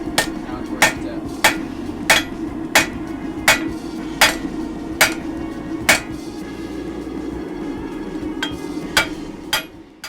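Hammer blows ring out on a steel knife bar being forged toward the tip, a dozen or so sharp strikes at an uneven pace over a steady low roar, likely a forge or blower.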